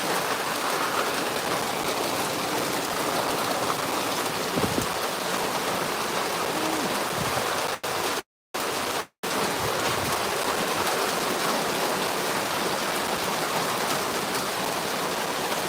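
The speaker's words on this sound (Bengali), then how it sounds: "বৃষ্টির পানি কিন্তু অনেক পড়তেছে" Heavy torrential rain pours down in Brahmanbaria, with water running along the road, a dense continuous roar that stays loud throughout apart from two brief dropouts.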